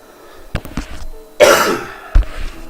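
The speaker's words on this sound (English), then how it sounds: "Excuse the coughing." A few close, loud coughs: short hacking bursts, a longer raspy cough in the middle, then one more sharp cough.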